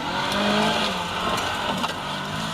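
A 1400 MG rally car runs past on a forest stage, its engine revving and droning at moderate distance, holding fairly steady and then easing off as it goes by.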